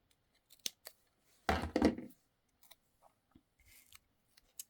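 Scissors snip through a paper sticker for a Halloween scrapbook page, a few quiet, close cuts with one longer crisp slice in the middle, set against near silence.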